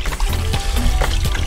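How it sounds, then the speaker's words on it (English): Water poured from a bottle into a container: a steady, close splashing pour with gurgling and trickling that carries on through the whole moment. "I'm just gonna put the water in here"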